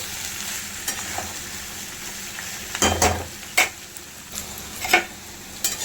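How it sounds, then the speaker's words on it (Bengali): Soybean chunks fry in a hot pan for a quick soybean chowmein, giving a steady low sizzle with a few sharp scrapes and stirring knocks of a utensil against the pan, close by and without talk. "সোয়াবিনটাও দিয়ে একটু ভাজা হলে"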